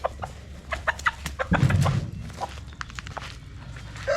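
A chicken clucks nearby in short bursts, with footsteps and shuffling around it and a brief louder rustle partway through.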